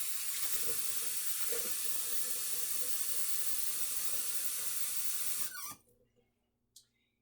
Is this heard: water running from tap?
yes